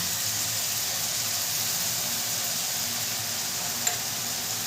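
Green chilli paste sizzles steadily in a hot pan during chana masala prep, a continuous broadband hiss with no talking and one brief click near the end.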